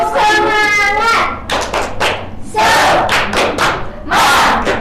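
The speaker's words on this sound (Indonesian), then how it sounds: "Tepuk semangat." An elementary school class does a rhythmic spirit clap together, loud bursts of group clapping in a patterned beat mixed with children's chanting voices, close and energetic.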